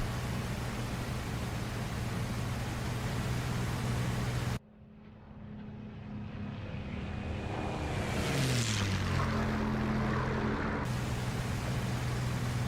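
P-51 Mustang propeller fighter climbing in the DCS World flight simulator: a broad, steady engine drone that drops away, then swells again with a rising whine and shifting tones as it climbs, continuous and fairly loud with no talk.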